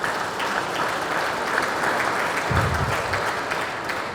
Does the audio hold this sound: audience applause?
yes